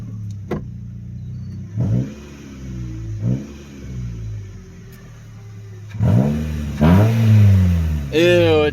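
A 2007 Honda Fit Sport with the muffler removed revs repeatedly, each blip rising sharply and falling away raspy and loud, the last few revs higher and longer.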